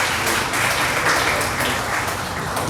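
Audience applause at an essay and elocution competition in a college in Chandigarh, a dense, even wash of many hands clapping for a contestant, loud and steady throughout.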